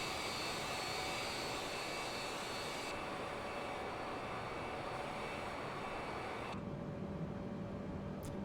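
Airliner jet engines in a flight simulator video game: a steady, moderately quiet broadband roar with a faint high whine, shifting slightly in tone partway through, with no talking.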